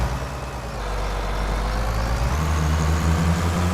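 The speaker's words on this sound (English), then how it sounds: "Truck's got a little bit of power." A dump truck engine in Farming Simulator 25, running unloaded. It gives a steady low drone that drops in pitch partway through and then settles into a rougher lower throb, heard alone and close.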